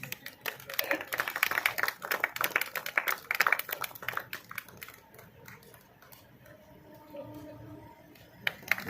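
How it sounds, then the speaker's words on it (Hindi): An audience at an event for a Kadwai encyclopedia bursts into brisk, dense clapping that fades after about five seconds, then a voice speaks over quieter background. "give a big round of applause"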